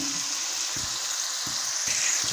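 Chopped onions frying in oil, a continuous close hiss of sizzling with a few soft low knocks at intervals and no voices.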